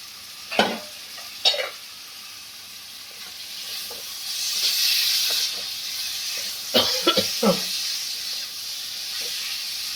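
Small pieces of meat stirred and fried in a pan for ghugni: a soft background sizzle and hiss with a few sharp scraping strokes of a spoon near the start and end, close and moderately loud.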